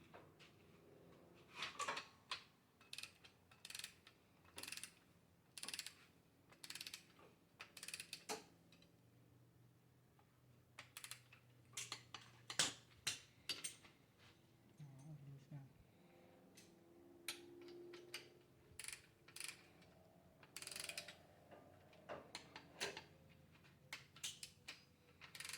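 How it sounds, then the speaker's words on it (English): Torque wrench tightening head bolts on a 351W short block in a shop, with repeated sharp ratcheting clicks and creaks in irregular bursts, fairly close, and quiet stretches between pulls. "So we're gonna go ahead and torque these things down."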